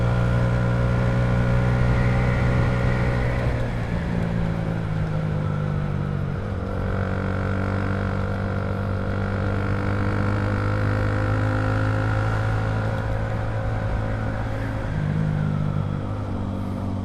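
Manual motorcycle engine climbing uphill, revving steadily and loud as the rider upshifts, pitch rising then dropping at each gear change, a continuous close drone throughout.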